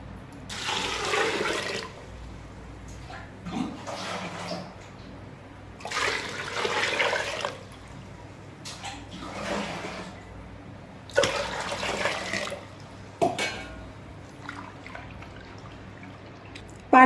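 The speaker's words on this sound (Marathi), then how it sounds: "आता तिसऱ्यांदा गव्हामध्ये पाणी टाकायचं आहे" Water is poured onto soaking wheat for making kurdai, the third rinse, in several separate splashing pours of a second or two each, with quiet gaps between.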